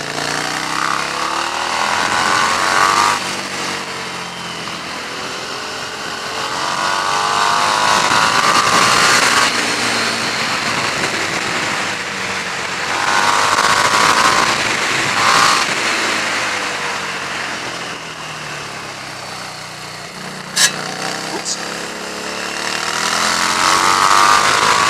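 A Harley-Davidson Street 750 motorcycle, made in India, rides on a road with a steady engine drone that rises and falls with acceleration and wind rush over about twenty-five seconds.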